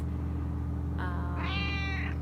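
A cat meows inside a pet store: two drawn-out, rising-and-falling cries in close succession, heard over a steady low hum of background noise.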